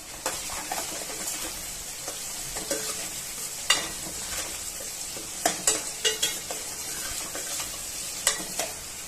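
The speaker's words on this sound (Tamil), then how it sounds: "நல்லா வதக்கிக்கலாம்." Oil sizzles in a pan during sautéing for egg gravy, with repeated sharp scrapes and clicks of a spoon stirring the mixture at an irregular pace over a steady frying hiss.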